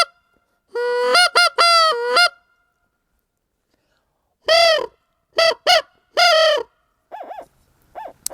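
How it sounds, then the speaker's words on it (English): Short reed goose call blown in a few bursts: a close, loud series of honking notes, then a pause, then more honks and a fainter trailing pair, with no voices. "This one here is a short reed goose call."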